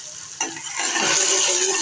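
Cumin, fennel seeds, sesame seeds and tamarind powder hitting hot oil for Gujarati patra: a sudden hiss breaks out and swells into a steady, loud sizzle with some stirring clatter.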